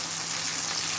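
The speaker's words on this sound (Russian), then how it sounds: "Ну вот, так они обжариваются." Food sizzles and fries steadily in a pan on the stove while a home cook prepares pasta with processed cheese, a continuous close crackling hiss with no talking.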